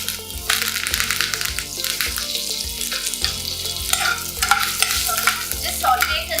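Mustard seeds, slit green chilies and curry leaves sizzle and crackle steadily in hot oil for lemon rice, with a spoon stirring and scraping through the pan, close and continuous.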